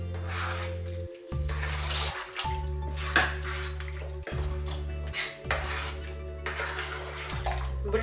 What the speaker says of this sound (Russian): Добавляю фасолевый бульон.